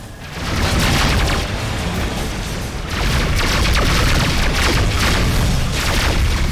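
Incoming missiles exploding around a ship in Rebel Galaxy, a near-continuous barrage of heavy booms and bursts that rises quickly and stays loud and dense, with a brief dip midway.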